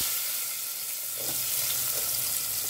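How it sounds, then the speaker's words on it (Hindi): Chopped onions hiss and crackle in hot oil, a dense steady sizzle with a few faint stirring touches, heard close and without any speech. "अब इसमें डालते हैं प्याज।"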